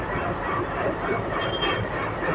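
A heavy Indian Railways Shatabdi train engine rumbles steadily nearby, a dense low roar with hissing and mechanical clatter filling the air at a station platform.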